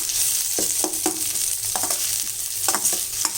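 Onions sizzle steadily in a hot pan for tomato rice, broken by a series of sharp scraping stirs at irregular intervals, up close with no talking.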